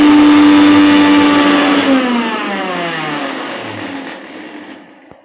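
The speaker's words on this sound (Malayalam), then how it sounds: "ചെറിയ ഉള്ളിയും വെളുത്തുള്ളിയും കറിവേപ്പിലയും ഇഞ്ചിയും കുരുമുളകും മിക്സിയിൽ നന്നായി അരച്ചെടുക്കണം." A kitchen mixer grinder whirs loudly as it grinds shallots, garlic, ginger, curry leaves and pepper, its motor pitch slowly sliding down as the paste thickens before it cuts off with a click.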